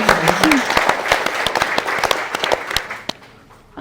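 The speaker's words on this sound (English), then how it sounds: "Can you make that round of applause a bit louder?" Audience applause welcoming a moderator at a women's luncheon conversation event: a dense wash of many hands clapping that tapers off near the end, with a brief vocal sound early on.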